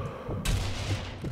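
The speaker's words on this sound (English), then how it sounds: "Don't fire that machine gun, you" Machine gun fire in the video game Sniper Elite V2: a brief, loud burst of gunfire that cuts in sharply partway through and then rumbles under dense background game noise, lasting barely a second.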